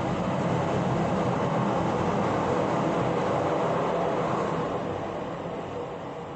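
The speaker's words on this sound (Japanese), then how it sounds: "何回も電車が通ったりとかして" A passing train rumbles steadily from start to finish, a loud broadband roar that eases slightly toward the end, with no voices over it.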